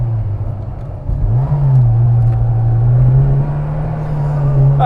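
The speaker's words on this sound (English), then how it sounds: "Full wheel spin coming out of that corner" A 1997 Mini Cooper's engine revs hard and holds a high, steady whine as the tyres spin coming out of a corner, loud and close, with a brief shift in pitch partway.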